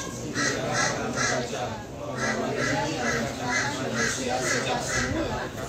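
Several crows caw in repeated bursts of two or three harsh calls, fairly loud and close, while a crowd of voices speaks and chants underneath throughout.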